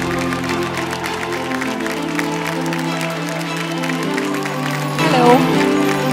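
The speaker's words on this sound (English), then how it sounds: "A louder applause, maybe, ladies and gentlemen." Audience applause at a prodigy awards show, a steady dense wash of clapping and crowd noise with sustained musical tones underneath that swells a little louder near the end.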